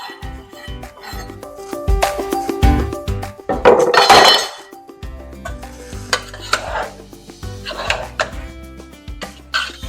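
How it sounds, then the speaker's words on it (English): Andouille sausages are dropped into a pot of simmering Louisiana red beans. Clinks and clatters come first, then a burst of wet sizzling splashes, with scattered knocks against the pot afterward. "I'm gonna throw them in the pot."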